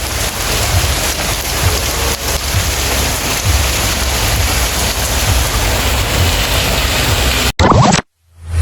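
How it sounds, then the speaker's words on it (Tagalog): Heavy rain pouring down outdoors, a loud dense steady roar of rainfall on surfaces lasting about seven seconds before cutting off abruptly, no speech. "Yun ang lakas ng ulan."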